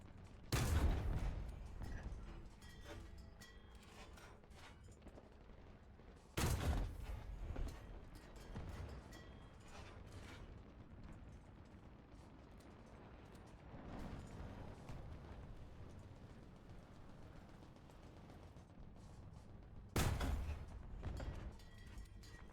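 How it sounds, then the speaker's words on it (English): Distant gunshots in a tank battle video game, several loud blasts spaced apart at irregular intervals over a low rumbling battlefield background. "I don't know where those shots are coming from."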